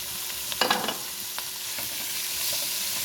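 Half a kilo of machine-minced meat goes into a hot pan, setting off a brief burst of sizzling and stirring that settles into a steady frying hiss.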